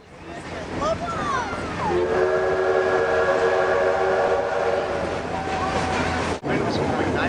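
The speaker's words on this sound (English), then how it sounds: "This is a steam engine hooking up with passenger cars on an excursion railroad." A steam locomotive pulling passenger cars on an excursion railroad sounds a long, steady multi-tone whistle blast over continuous rumbling and wind noise, with a brief dip near the end.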